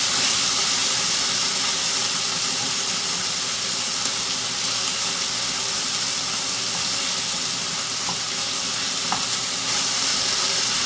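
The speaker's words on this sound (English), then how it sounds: "so I'm just sauteing it to move it around, make sure it gets seared from all sides" Chicken pieces sauté in a hot pan for Kung Pao chicken, giving a loud, continuous sizzle with constant stirring and tossing close by, and no talking.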